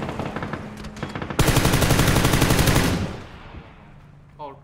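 Automatic gunfire in a video game as a player shoots out a vehicle's tires: a dense, loud, continuous burst of rapid shots lasting about a second and a half, preceded and followed by quieter game sounds.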